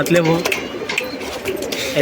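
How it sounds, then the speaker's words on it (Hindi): Allahabadi pigeons at a loft in Wadala East, Mumbai, coo in low, rolling bursts beneath someone talking continuously close by. "एक नंबर क्वालिटी की कबूतर है।"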